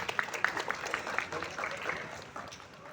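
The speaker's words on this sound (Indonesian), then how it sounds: "Kita beri tepuk tangan." Audience applause at a university law faculty public discussion, fairly faint scattered clapping from a small crowd that tapers off toward the end.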